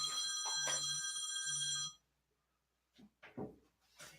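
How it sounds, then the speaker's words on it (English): An incoming call on a phone: two short electronic ring bursts that are close and clear, then silence, followed by faint clicks and brief handling noises. "Had a phone call."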